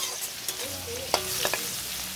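A bay leaf fries in hot oil in a pan, giving a steady soft sizzle with a few sharp scraping clicks from stirring, close and fairly quiet with no voices.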